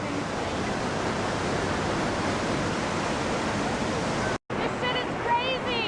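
A roaring waterfall at Switz Waterfalls, heard close as a loud, continuous broadband rush. After a brief dropout near the end it resumes, with a voice speaking under the roar.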